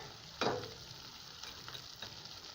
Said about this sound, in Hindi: इस प्याज के पेस्ट को हम अच्छी तरह भूनेंगे।